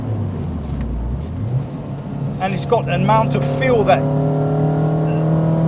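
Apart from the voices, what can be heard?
Renault Clio 172 Cup engine revving while driving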